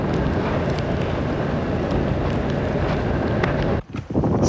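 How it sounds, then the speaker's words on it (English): Strong wind on Ireland's Atlantic coast near the Ceide Fields in County Mayo roars and buffets the microphone in a loud, continuous rush, briefly dropping away for a moment near the end before gusting back. "And just as I arrived there, the wind just kicked up."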